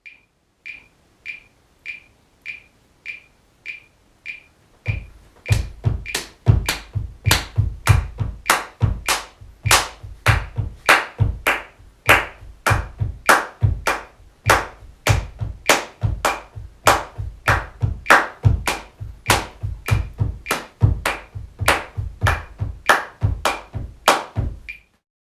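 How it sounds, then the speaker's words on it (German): Two people perform a body percussion pattern together, alternating hand claps and foot stomps in a steady, repeating rhythm; a few light clicks open it, then crisp, loud claps over deep stomps continue evenly. "Body Percussion zu zweit."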